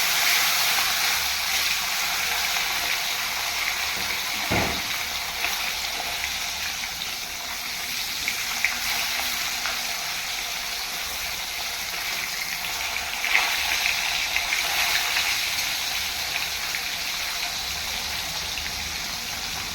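Fish frying in hot oil in a kadai, a dense, steady hiss of sizzling oil that runs unbroken throughout, close and even, with an occasional faint tap.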